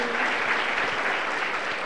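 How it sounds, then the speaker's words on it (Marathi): Seminar audience in Buldhana applauding: a dense, even wash of many hands clapping at a steady loudness throughout, with no voices over it. "खरं सरांसाठी जोरदार टाळ्या वाजवू आपण."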